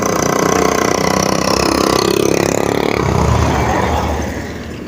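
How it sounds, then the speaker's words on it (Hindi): Loud, steady engine roar from motorcycles on a street, close and continuous before easing slightly at the end. "ये मोटरसाइकिलों की आवाज़ इतनी ज़्यादा है ना गाइस"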